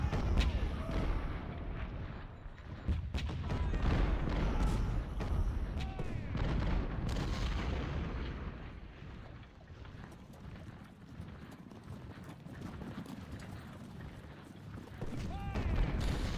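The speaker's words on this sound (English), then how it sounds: "For now, I'm content to just bombard the hell out of those ironclads." Artillery bombarding ironclads in the Civil War video game Ultimate General: Civil War, with a dense, continuous rumble of cannon fire and booms, layered and fairly loud, while someone talks over it.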